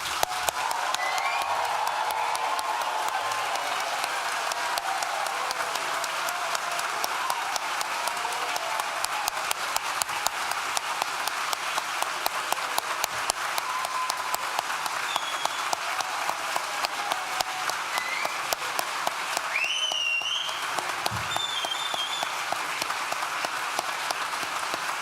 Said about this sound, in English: So you can clap, scream, whistle, whatever you'd like to do, and let's celebrate what you've achieved.